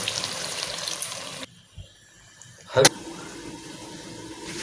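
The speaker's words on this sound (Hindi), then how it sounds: "थोड़ा सा 1 कप पानी" A cup of water poured into a pot of dhaba-style mutton korma: a steady rushing pour that cuts off abruptly, then near-quiet and a brief sharp knock of the vessel.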